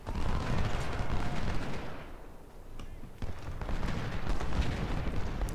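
Cannon and gunfire roar in the Ultimate General: Civil War battle game, a dense, continuous barrage of booms and crackling shots that briefly thins before swelling again, with faint talk underneath.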